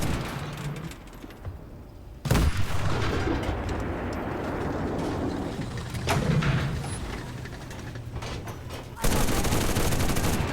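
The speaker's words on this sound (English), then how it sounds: "Just keep firing that machine gun, spam it." Machine gun fire roars from the WWII shooter game Enlisted during a tank battle, with dense, sustained bursts of gunfire and sharp jumps in intensity.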